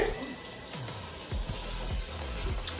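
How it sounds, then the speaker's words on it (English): Tap water runs into a small pot in a dorm kitchen while macaroni is being prepared, a steady splashing stream broken by a few clanks, with background voices. "I'm filling up the water."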